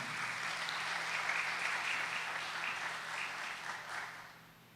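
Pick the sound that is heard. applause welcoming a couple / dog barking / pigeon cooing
applause welcoming a couple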